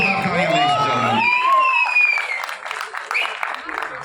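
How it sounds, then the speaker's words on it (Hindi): Audience applause and cheering at the Mumbai trailer launch event for the film Jaat, held at PVR Juhu with actor Sunny Deol, a loud crowd burst under an announcer's voice that fades after about a second into lingering scattered clapping. "एक बार जोरदार तालियां, लेडीज एंड जेंटलमैन"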